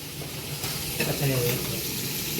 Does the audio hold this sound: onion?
yes